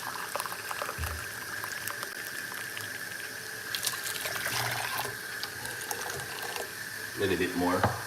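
Water pouring from a cup into a larger pot for making tea from banaba leaves, a steady trickling stream with clinks and knocks, close by and fairly quiet.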